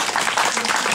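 An audience at a school ceremony gives a short, dense burst of steady applause for a guest, with the clapping filling the whole moment.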